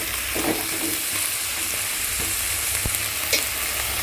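Amaranth stem greens sauté in a pan with a steady, fairly loud sizzle, broken by a few faint scrapes and knocks of stirring and no voices.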